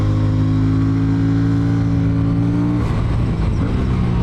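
An Aprilia Tuono 457 motorcycle engine revs loudly and steadily, holding a droning tone before the pitch breaks up into rougher, grittier bursts as it accelerates hard, close and without any talk.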